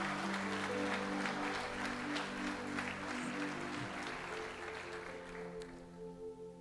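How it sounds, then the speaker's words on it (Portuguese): A church congregation claps and cheers in praise, a dense wash of applause riding over sustained keyboard or organ chords, easing off near the end. "aplauda ao Senhor"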